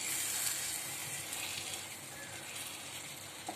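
Stuffed brinjals sautéing in a pan for Maharashtrian bharli vangi, a faint, even hiss of sizzling oil that carries on steadily without clear stirring strokes.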